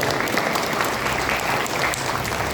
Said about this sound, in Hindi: तालियां बजाकर प्रभु को धन्यवाद